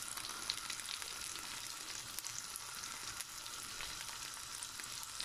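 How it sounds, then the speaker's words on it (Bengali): A continuous, even sizzle of shrimp and garlic frying in a pan, heard close up with no voices over it. "প্রথমে আমি চিংড়ি আর গার্লিকগুলো একটু ভেজে নেব।"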